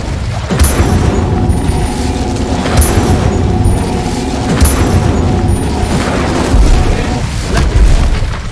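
Incendio fire spells cast in Hogwarts Legacy burst repeatedly, each a loud booming whoosh in a steady series over continuous game noise.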